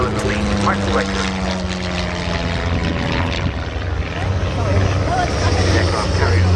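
A vintage propeller aircraft named Ballerina drones past at the Duxford air display, a loud, sustained engine note rising and falling as it flies, heard under an announcer's commentary.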